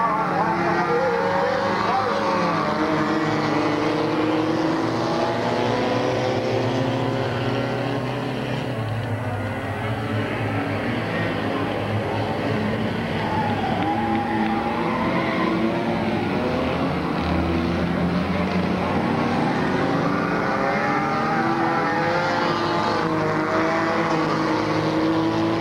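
Race cars, including a Pontiac, lapping Midvale Speedway in 1999, a continuous loud engine drone with rising and falling pitch as cars pass, under steady announcer commentary.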